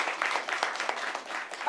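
Sustained crowd applause at a Haitian Vodou Kanzo and baptism ceremony, dense overlapping claps with a few sharper accents, steady and fairly close.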